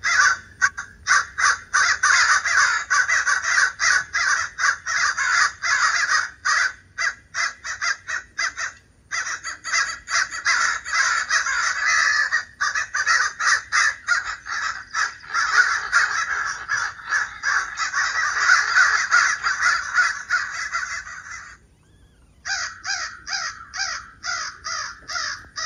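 A crowd of crows caws continuously and loudly nearby around a pigeon loft, the harsh calls overlapping in rapid, dense bursts with only a brief lull near the end.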